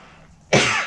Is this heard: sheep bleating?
no